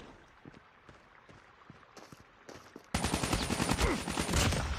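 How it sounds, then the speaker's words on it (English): Hip-fired gunshots in the mobile shooter Call of Duty Mobile: scattered faint single shots, then a sudden loud, rapid automatic burst that rattles steadily to the end. "Hip fire for the win."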